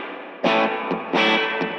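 Electric guitar run through an effects pedal with built-in spring reverb, playing two loud distorted strums with springy reverb tails.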